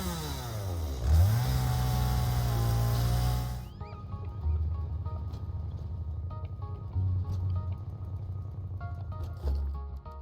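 A chainsaw in the video game Satisfactory rises in a revving whine, then cuts to a rougher rattling buzz that runs on at moderate level with a few sharp bursts.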